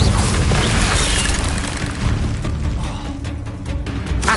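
Booming fire-spell blasts in Hogwarts Legacy, loud dense crashes and rumbling bursts with no clear gaps, filling the whole stretch.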